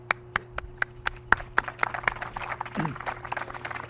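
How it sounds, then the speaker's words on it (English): Scattered hand clapping from a small crowd at an outdoor groundbreaking ceremony for a utility training facility, led by the mayor: a dozen or so sharp, uneven claps close by that thin out and fade. "Mayor, thank you for leading the applause."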